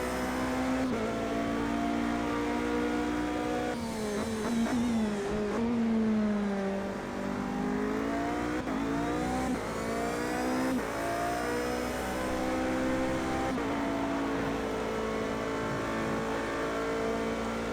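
A race car engine lapping the Nurburgring GP circuit in an endurance-league racing video game, revving hard and shifting through gears with rising and falling pitch, loud and steady with no talk.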